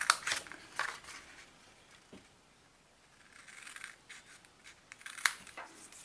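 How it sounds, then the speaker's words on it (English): Scissors snip through cardboard while a jumbo sticky note holder is being made, with a few crisp cuts spaced apart over a quiet background and no talking. "Cut off the two end squares."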